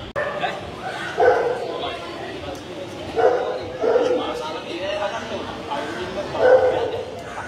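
Dogs at a Sri Lankan dog show give several short barks and yips spread across the clip amid a busy crowd hubbub, with people talking throughout.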